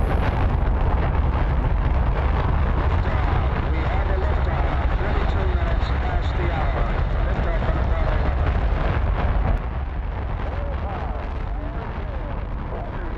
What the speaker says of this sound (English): The first stage burn from the rocket lasts around 3 minutes to get the rocket clear from the launch pad and into the sky.